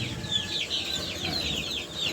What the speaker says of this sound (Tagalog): At yun, tumilawak ng ating mga manok.